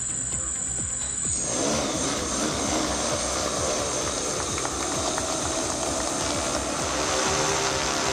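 A land-survey drone flies over a private college campus in Puducherry with a loud, sustained propeller roar and a high whine that drops in pitch early on, continuous throughout with no talk.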